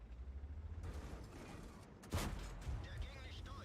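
Tank cannon fire in World of Tanks, with a Jagdtiger 8,8 cm in play: one sharp, loud blast lands midway, following a rumbling engine drone and followed by a decaying boom and mechanical noise.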